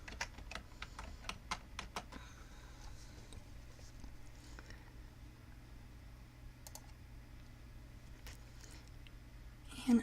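Keys clack on a computer keyboard while text is entered into Cricut design software, a burst of quick close taps at the start, then sparse clicks later over a low steady hum.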